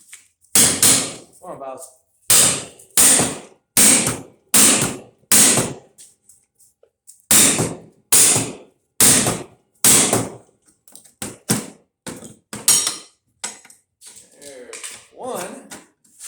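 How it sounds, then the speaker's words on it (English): Heavy metallic blows from a sledgehammer on a flat bar ring out as parts are busted out of a dehumidifier being scrapped, a series of loud, evenly spaced strikes with brief pauses and a voice speaking between them. "we're going to try and bust them out. The flat bar and the sledgehammer."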